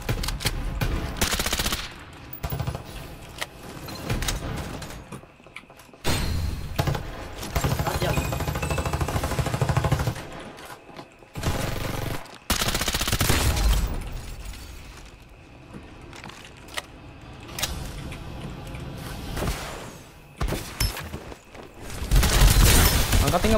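AK 77 assault rifle gunfire in the shooter game Farlight 84, with loud rapid bursts and sustained sprays repeating across the clip amid other game noise and overlapping players' voices.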